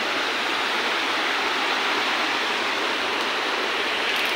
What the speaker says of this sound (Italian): Insomma, ecco la cascata.